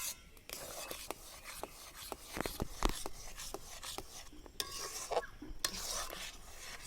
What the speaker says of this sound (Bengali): এবার আম আর সুজি দিয়ে ভালোভাবে নেড়ে চেড়ে মিশিয়ে নেব।